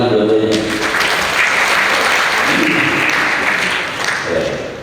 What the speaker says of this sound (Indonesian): Kasih tepuk tangan dua-duanya.